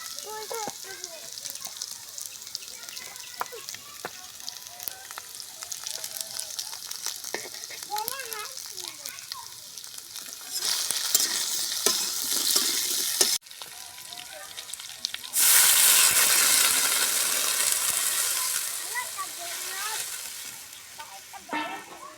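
Cumin seeds temper in hot oil in a village kitchen, the frying hiss rising in two strong sizzling bursts after a stretch of quieter stirring and clatter, with faint background talk.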